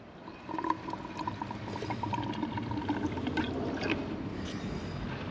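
AdBlue diesel exhaust fluid draining quickly from a bottle into a diesel vehicle's DEF tank, a steady close pouring and gurgling of liquid that runs continuously without talk.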